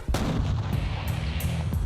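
A single rifle shot in a video game rings out as a loud, booming blast right at the start, with a rumbling tail and a few fainter echoing thumps that decay over the next two seconds.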